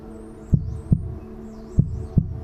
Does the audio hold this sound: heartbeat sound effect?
yes